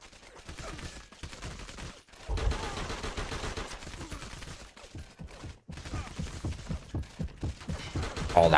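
Enemy gunfire in the war shooter Medal of Honor Heroes 2, dense rapid bursts of automatic fire and rattling shots running almost continuously, loud and close, with brief gaps between volleys.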